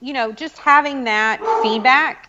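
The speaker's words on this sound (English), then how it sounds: "sorry about the dog in the background" A dog barks and yips in the background, with repeated barks cutting across someone talking close up.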